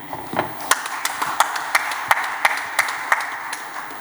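Sparse audience clapping at a talk on digital intelligence and data management: distinct individual claps ring out at an uneven, loose rhythm, fairly close and clear, with no one speaking.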